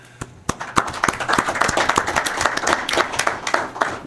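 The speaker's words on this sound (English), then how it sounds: "give you a round of applause for that" A room of people at a county commissioners' board meeting applauding, with a dense patter of clapping that builds quickly and holds steady for several seconds.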